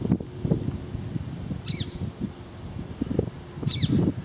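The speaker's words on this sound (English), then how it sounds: "Not sure if you can see that, but that's a parakeet." Two shrill, harsh parakeet calls ring out a couple of seconds apart over rustling and low outdoor noise.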